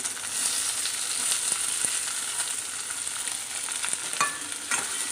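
Onions frying in a pan with oil for mango curry, a steady, dense sizzle with faint stirring scrapes, close and continuous throughout with no talking.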